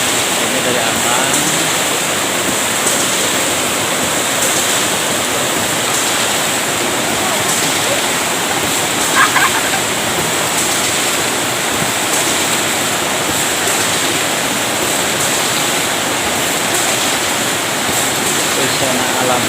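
Steady, loud roar of the Curug Bibijilan waterfall in Indonesia, a dense unbroken rush of falling water filling the whole span with only a tiny blip midway.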